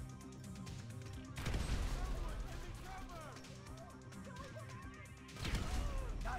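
A thrown grenade explodes in the Grand Theft Auto V video game as two loud crashing blasts amid gunfire, set against a busy in-game soundscape with voices.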